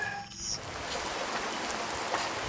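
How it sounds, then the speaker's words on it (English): Rain falling during a non-stop downpour, a steady close patter and hiss of drops on surfaces with no voices. "has been raining non-stop."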